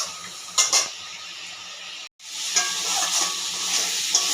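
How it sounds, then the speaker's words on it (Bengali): Spices being stirred and fried in a pan for a rohu fish and prawn curry, a steady close sizzle with scraping stir strokes and a brief break partway through. "মশলা হয়ে এসছে কষানো"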